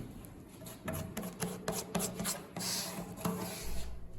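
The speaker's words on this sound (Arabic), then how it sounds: "باجي على الاشاط اللي حضراتكم شايفينه ده بسحبه كامل سكينة معجون" A putty knife drags filler across a wooden door in repeated scraping, rasping strokes, close and moderately loud with short pauses between passes.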